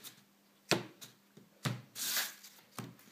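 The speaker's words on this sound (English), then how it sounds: "Would you like to have a shuffle, Annie?" Playing cards being shuffled by hand at a card-trick table, a few sharp riffling bursts and one longer ruffle separated by quiet handling, close and fairly soft with no talking.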